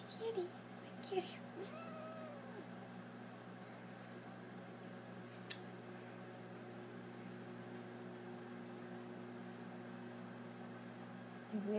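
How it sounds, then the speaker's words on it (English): A cat meows a few times early on, faint and set against a steady hum, with people talking nearby. "Kitty."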